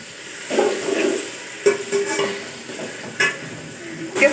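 Ground garlic, ginger and chili paste sizzles in a pot for chicken yakhni pulao, with soft crackling, a few stirring scrapes and light clinks close by.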